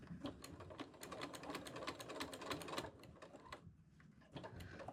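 A sewing machine stitching in a fast, steady run of rapid needle clicks, close and moderately loud, easing off briefly before picking up again.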